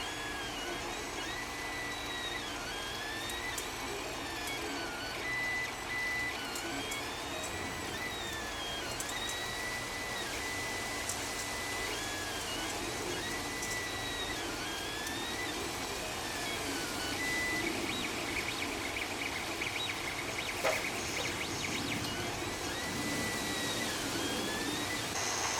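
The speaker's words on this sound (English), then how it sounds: "now we just wait for the bed to be heated and then it's going to start printing" A 3D printer runs with PLA filament on a heated bed, its stepper motors whining in rising and falling tones over a steady whirring hum, mid-distance and continuous throughout.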